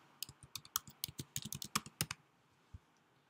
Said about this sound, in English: We can type in a word such as spectrum